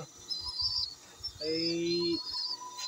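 Pet pigeons in a loft give a brief low, steady tonal call along with a few faint high chirps, all quiet and close against soft background noise.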